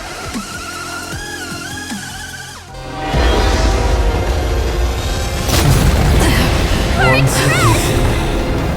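The Astral Express in Honkai: Star Rail lays down covering fire: after a stretch of voiced lines and music, heavy booming blasts and rumbling erupt and continue for several seconds at high volume.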